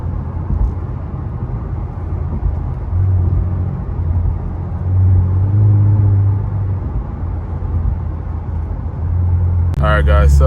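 A twin-turbo Infiniti Q50 drives through upstate New York, its engine drone and road rumble heard from inside the cabin, swelling under acceleration, with a short voice near the end.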